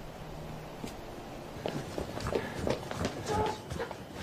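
Dense, rhythmic footfalls of a large marching army in a film scene, many steps landing together and growing louder as they approach, backed by a low rumble.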